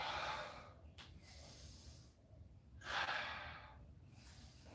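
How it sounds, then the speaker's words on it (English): Heavy breathing during an at-home leg workout, with a few big deep inhales and exhales rising and falling as broadband breathy noise, close and fairly loud, and no talking. "Breathing deep. Big inhales."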